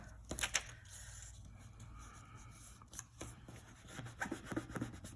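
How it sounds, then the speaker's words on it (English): Ink is rubbed onto the edge of a paper card, giving soft, quiet scratchy rubbing strokes in an irregular rhythm, close by and faint. "you just want to give it a good rub"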